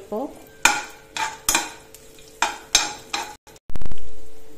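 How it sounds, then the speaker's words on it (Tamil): Tamarind and green chillies being stirred in a pan for chutney: about seven sharp spoon scrapes and clanks against the pan in an uneven rhythm, close-up, ending with a sizzling sweep. "இப்போ பச்சை மிளகாய் போட்டுக்கலாம். நல்லா கலந்துக்கோங்க."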